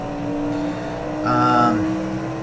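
A 1966 kerosene-fuelled race car engine at Monza in the racing game Assetto Corsa drones steadily, swelling briefly as revs rise and then settling back, loud and continuous.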